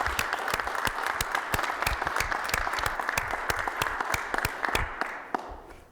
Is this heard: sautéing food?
no